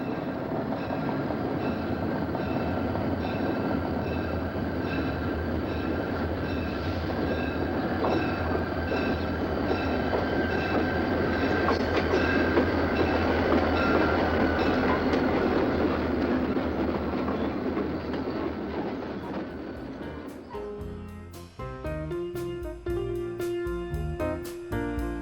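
A Conrail freight train rumbles past loud and close in a continuous roar, its trailing SD-45 locomotive a red, white and blue former Erie-Lackawanna bicentennial unit. The steady heavy rolling noise fades and gives way to other sound near the end.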